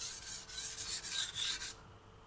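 Rasping scratches of a knife blade drawn across a Shan Zu 3000/8000 whetstone, about eight quick close strokes in a steady rhythm that then stop abruptly, with no talking.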